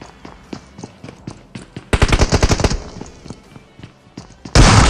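Gunfire from a BGMI match, with a dense rapid burst of close, loud shots in the middle and a sharp heavy blast at the end, plus scattered lighter shots and thuds between them.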